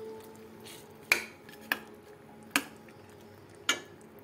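Potato curry being stirred with water in a pan: four sharp metallic clinks of a spoon against the pan, spaced irregularly, close by over a quiet kitchen background.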